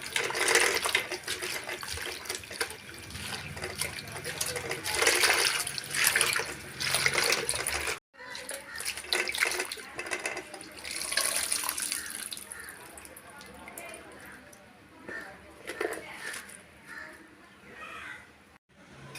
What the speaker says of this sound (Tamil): தண்ணி சேர்த்துட்டு கீரை ஒரு ரெண்டு முறை நல்லா அலசி எடுத்துக்கலாம்